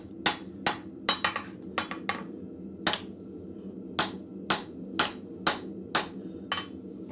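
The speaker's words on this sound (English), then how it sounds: "continue to do the little feather design on it with the cross peen" A blacksmith works hot metal with a cross peen hammer, striking about a dozen sharp, ringing blows at an uneven pace, some in quick pairs, over a steady low forge hum with no voices.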